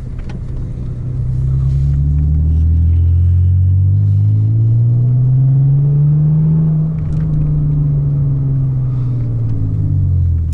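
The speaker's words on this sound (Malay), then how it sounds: "Yang kita pusing-pusing manaskan enjin kita ni ya." A racing car engine warms up, a loud steady idle rumble that rises and falls slightly as it is revved gently, close by and continuous throughout with no talk.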